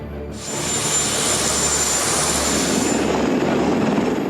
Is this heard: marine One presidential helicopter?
yes